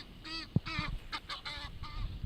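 Ducks on the lake in Ixelles, a few nasal quacking honks in quick succession, fairly near and moderately loud over faint outdoor background.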